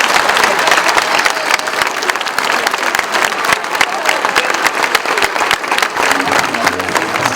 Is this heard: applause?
yes